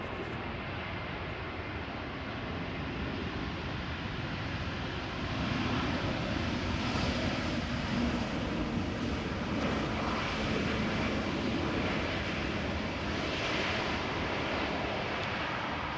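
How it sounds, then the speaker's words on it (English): An Airbus A320neo jet arriving at Amsterdam Schiphol from Palma de Mallorca, a steady broadband engine roar that holds throughout and grows slightly louder midway, with no talk over it. "A320neo arriving from Palma de Mallorca"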